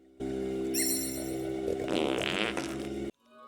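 A cartoonish fart sound effect from a character in the Fable video game, one sustained, loud, buzzy blast of about three seconds that swells and sputters before cutting off abruptly.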